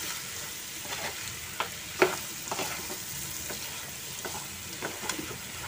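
Chicken for kondattam fries in a pan while being stirred, a steady close sizzle punctuated by soft scraping and spoon taps at irregular intervals.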